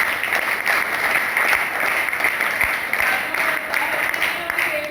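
An audience breaks into applause in a hall, a steady wash of many hands clapping at moderate loudness for several seconds.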